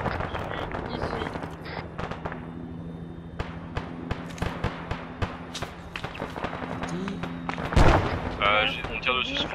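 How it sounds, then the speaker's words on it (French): Gunfire in ArmA 3 crackles through a coop firefight, with sharp single shots and bursts at varying distances, some near and loud, while players talk over the radio. "On tire dessus sur le flanc droit"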